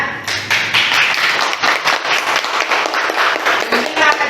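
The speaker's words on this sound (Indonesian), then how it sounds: "Tepuk tangan." A classroom full of people claps together, a dense patter of hands lasting a few seconds.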